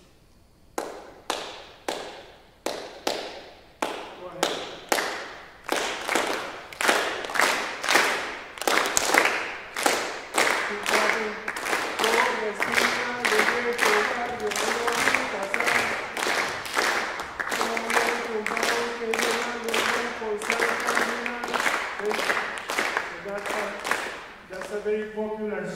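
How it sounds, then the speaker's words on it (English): An audience at a cello festival lecture claps a Latin American clave rhythm in unison. Sharp, repeated handclaps start sparse, then grow denser and louder, and a voice briefly speaks over them. "So I will ask you to please clap a clave for me."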